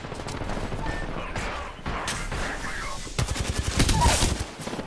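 Gunfire in the Apex Legends video game crackles in quick bursts, the shots growing denser and louder toward the end, with a voice talking over the opening.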